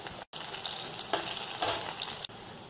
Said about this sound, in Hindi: तो तीनों कबाब को हम पलट देते हैं